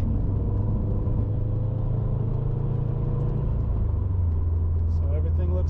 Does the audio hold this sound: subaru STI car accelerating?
yes